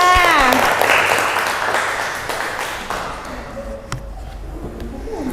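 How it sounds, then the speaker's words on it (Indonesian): A group in a school group-guidance session breaks into applause. Loud, close clapping fills the room at first and gradually thins and fades, with a few scattered claps and taps trailing at the end. Nobody speaks. "Tepuk tangan untuk kita semua."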